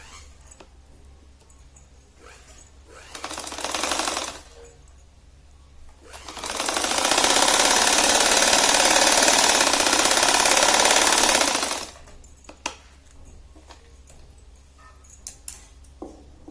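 Sewing machine stitching a waistband onto a traditional round saree, running in a short burst, then a steady loud run of about six seconds, with quiet handling noise between.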